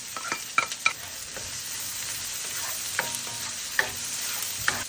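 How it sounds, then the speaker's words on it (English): Onions and garlic sautéing in a pan with a soft continuous sizzle, broken by several sharp scrapes and taps of a utensil stirring against the pan, no speech. "Let's also saute our onions."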